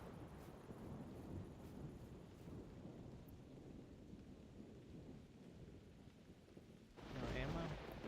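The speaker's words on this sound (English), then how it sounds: "it's got a thunderstorm now, right?" A thunderstorm in the video game theHunter: Primal gives a steady, quiet wash of rain and low rumbling thunder that swells louder near the end.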